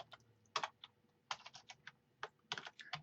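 Typing on a computer keyboard: faint, irregular keystrokes in small quick clusters separated by short pauses, close and quiet, with no talking.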